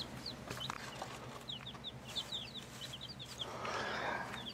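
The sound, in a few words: baby chicks chirping in a heat box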